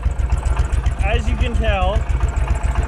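A Case 444 high-wheel tractor, long left sitting behind a barn and in poor condition, runs with a loud close chugging idle in a steady pulsing rhythm while someone talks over it.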